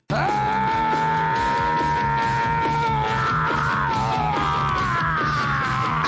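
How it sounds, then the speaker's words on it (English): Several people yell and bellow together in a sustained, loud group scream that holds steady for about six seconds before tapering slightly. "maybe we just need to scream and just get people pumped?"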